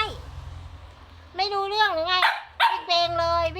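A dog gives a few whiny, drawn-out barks and yips close by, with a short pause between bursts, over a low steady background of falling rain.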